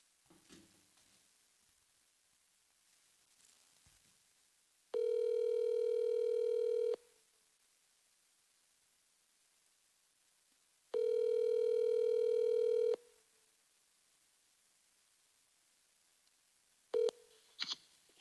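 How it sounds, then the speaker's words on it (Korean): A telephone call rings out through a handset: two long, steady electronic ring tones spaced about six seconds apart over near silence, followed by a couple of brief clicks as the line picks up. "전화 연결을 해보도록 하겠습니다"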